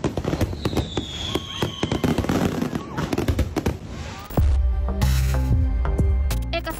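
Fireworks going off in Thailand: a rapid crackling barrage of sharp pops and bursts, then a deeper heavy boom and a tonal rumbling tail with a voice faintly audible.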